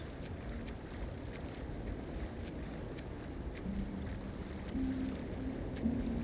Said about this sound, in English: The sound of the ocean in the distance.